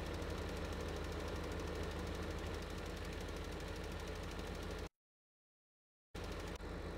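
Tractor engine idling in Farm Sim 15, a steady low rumbling drone with even mechanical pulsing that cuts out briefly to silence before returning.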